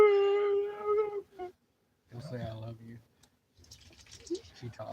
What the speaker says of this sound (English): They sound like a couple of wolf dogs in there.